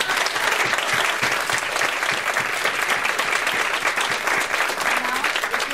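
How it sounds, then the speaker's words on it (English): Full audience applause at a charity finalists announcement, a dense, loud, continuous wash of clapping from a large room crowd that holds steady throughout. "And I just want to give them a big round of applause for what they've done."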